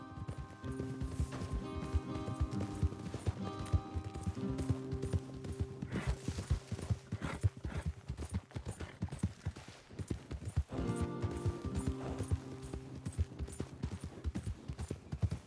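Steady clip-clop of several horses galloping in the video game Red Dead Redemption 2, a continuous rhythmic pounding of hooves with a faint tonal background.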